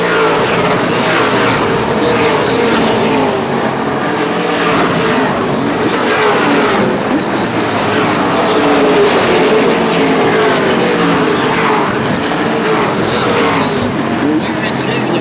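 Race cars at the Snowball Derby roar steadily and loudly in a continuous engine drone as they lap the track, revving rising and falling throughout, with crowd and announcer voices mixed underneath.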